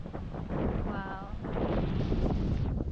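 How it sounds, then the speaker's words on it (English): Strong coastal wind buffeting the microphone near the ocean by an Australian rainforest, a continuous rough roar that swells louder midway, with brief voices underneath. "Well, it gets windy out here."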